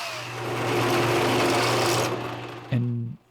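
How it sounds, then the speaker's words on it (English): Power countersink boring into screw holes in an Osage orange miter plane body, a steady whirring grind running for a couple of seconds, then a short burst before stopping. "now I will countersink"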